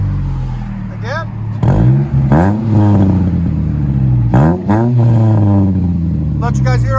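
Loud, close revving from a 2009 Mitsubishi Lancer four-cylinder fitted with a DTM muffler, with sharp throttle blips climbing and falling in pitch, then held revs, repeated a few times.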